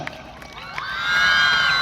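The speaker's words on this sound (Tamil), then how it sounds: "இந்த விருப்பத்துக்கு உங்களுடைய ஆரவாரம். Little more லவுடா" An audience at a men's hockey World Cup trophy launch event in Chennai breaks into cheering, swelling from a quieter murmur into a loud, sustained roar of many voices with high whoops.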